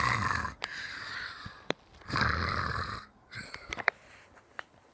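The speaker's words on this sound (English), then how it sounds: "I'm playing dead and you're seriously snoring?" A cartoonish character snores in Plants vs. Zombies, with a few long, breathy rasping snores and short sniffing snorts between them, fairly quiet with no talking.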